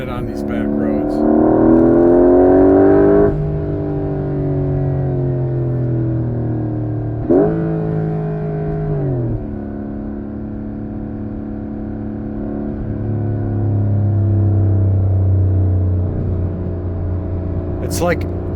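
A Porsche 911 Carrera 4 GTS T-Hybrid pulls hard along back roads, its engine note climbing through several rising upshifts and then settling into a steady cruising drone, heard from inside the cabin.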